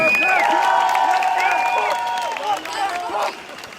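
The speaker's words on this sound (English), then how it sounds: "I want you to give a big cheer for her" A crowd at a Sydney anti-vaccine-mandate protest in Hyde Park cheers and claps, with voices rising over the applause before it fades away.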